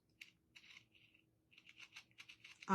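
A sharp knife cuts through stretched canvas in a series of short, close scraping and tearing bursts with gaps between them, ending in a sudden loud thud.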